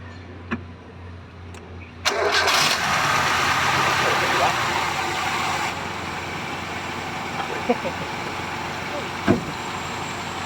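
A Mazda 323 engine starts with a burst and then settles into a steady, fairly quiet idle close by, with a few brief clicks and voices talking faintly over it.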